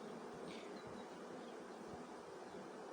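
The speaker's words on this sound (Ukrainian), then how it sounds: "То бджоли вже йдуть з пилком" Honeybees from a swarm settling into a new hive buzz continuously, a faint, even droning hum of many insects with no talking.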